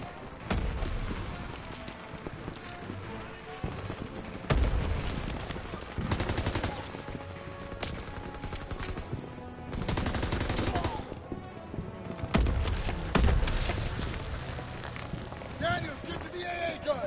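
Rapid MP40 submachine gun bursts in Call of Duty WWII, repeated close and loud amid heavy battlefield gunfire and explosions, with shouted voices over the din.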